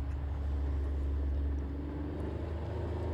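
Kawasaki Mule Pro FXR side-by-side driving off-road in the desert, a steady low engine drone with a constant hum and road rumble, close and continuous with no talk.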